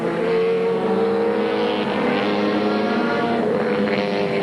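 A 1983 Group A sports racing car, mid-engined, roars past on a New South Wales circuit in wet weather, a loud sustained engine drone near and continuous.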